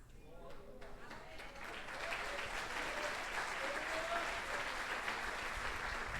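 A church congregation at a celebration service bursts into sustained applause that swells after a moment and holds steady, dense and moderately distant, with a voice speaking faintly at the start.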